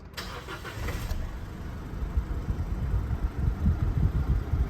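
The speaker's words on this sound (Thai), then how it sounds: "ไปฟังเสียงเครื่องยนต์นะครับ ตอนสตาร์ท" An Isuzu D-Max 1.9 Spacecab pickup's diesel engine cranks briefly and catches, then settles into a low, rumbling idle, close and steady, with no voices.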